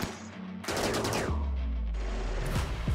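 Rimworld gunfire crackles in a dense burst of rapid shots and impacts, loud and close, with a couple of sharp descending whooshes near the end.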